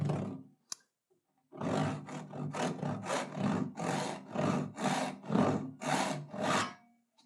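Handsaw cutting a shallow kerf across the top of a wooden board: a brief tap, a pause, then about a dozen rhythmic push-pull saw strokes, close and fairly loud.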